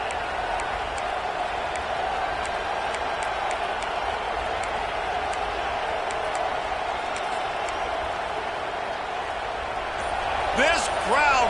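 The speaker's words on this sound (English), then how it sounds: "This crowd busting the decibel meter and trying to will a 4th down stop." A loud football stadium crowd roars in a steady, dense wash during a fourth-down defensive stand, with a whistle-like tone briefly rising near the end.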